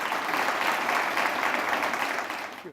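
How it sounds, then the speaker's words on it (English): Applause from an audience honoring Chief Art Acevedo at a talk show event, a steady dense patter of clapping hands lasting throughout and fading out at the very end. "Just give applause to our Chief Art Acevedo."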